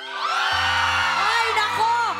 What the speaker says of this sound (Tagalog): Palingin nga ng sigaw!